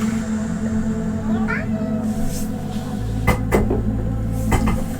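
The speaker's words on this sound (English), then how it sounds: "I stopped talking and my cat meows at me" A pet cat gives a short meow indoors against a low background hum, followed by a few sharp knocks like a cupboard or dishes.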